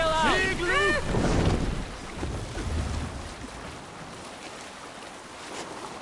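A ship sails out at sea in Assassin's Creed Valhalla with a steady rush of wind and water, loud at first and then settling. Voices shout briefly over the start.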